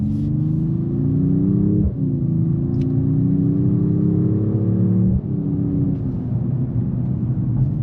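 A 2025 Mercedes-AMG E 53 Hybrid sedan engine drones steadily and loud, revving up in long sweeps with two brief drops between, no voices present.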